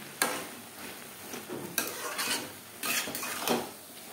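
Cabbage curry with dried chilli and black pepper is stirred in a pan. There are a few soft scraping strokes and light utensil contacts over a faint sizzle, quiet and close, with no voices.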